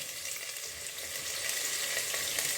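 Leek fries in sunflower oil with a soft, steady sizzle that grows a little louder, mixed with faint crackles and light clicks, close by and with no talking.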